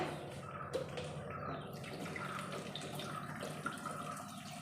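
Water runs steadily into a pot of roasted-coconut beetroot curry, a soft, continuous splashing, fairly quiet and with no one speaking.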